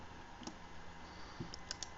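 A computer mouse gives a few faint, sharp clicks, spaced irregularly over a couple of seconds against a quiet background hiss.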